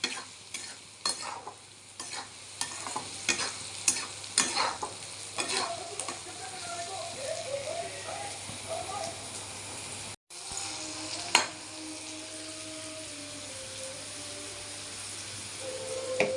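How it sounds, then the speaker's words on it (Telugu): Food fries in a pan with turmeric while a spoon stirs it, giving soft intermittent scrapes and taps over a low continuous sizzle, close and fairly quiet, with a brief cutout partway through and no talking. "దీన్ని కొంచెం కలిపి కాసేపు ఉంచి అంతా కొంచెం వేగాలి."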